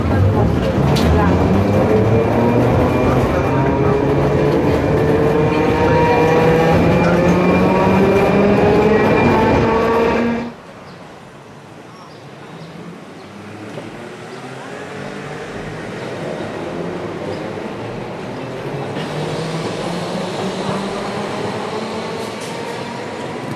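A tram on city rails in Milan: loud rumbling and rising metallic wheel squeal for about ten seconds, then a quieter rolling rumble that slowly builds again, with a voice talking over it.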